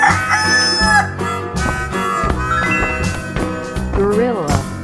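A cartoon chicken clucks and lets out a drawn-out cock-a-doodle-doo crow over bright, busy background music, the calls loud and close, repeating with a wavering pitch.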